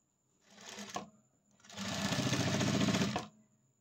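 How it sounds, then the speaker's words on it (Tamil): An electric sewing machine stitching the neckline of a blouse, running in two close, rapid whirring bursts, a short one and then a longer steady run, with quiet pauses between. "கழுத்து மட்டும் ஸ்டிச்சிங் போட்டு முடிச்சாச்சுங்க"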